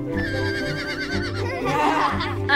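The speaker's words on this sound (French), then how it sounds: "Un cheval." A horse whinnies with a long wavering neigh that rises and breaks up toward the end, close and fairly loud over background music, with no speech on top.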